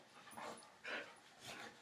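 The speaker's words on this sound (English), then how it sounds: "That's my dog." A dog pants and whimpers in soft, breathy bursts, faint and nearby, with a few short whiny sounds and no talking.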